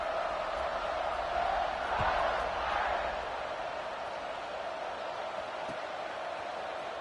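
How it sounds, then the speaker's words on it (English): Crowd in a college football video game, Arkansas versus Notre Dame, making a steady broad roar that swells slightly and then holds, heard at a distance as a continuous wash of noise. "this crowd is buzzing after that last score"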